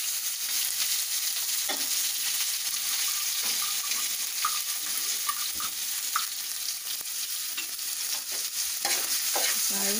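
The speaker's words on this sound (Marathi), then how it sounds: "कांदा एकदम असा गुलाबी होईपर्यंत त्याला फ्राय करायचा तेलामध्ये" Finely chopped onion and green chillies frying in oil, a steady sizzle with intermittent stirring scrapes and taps throughout, no speech.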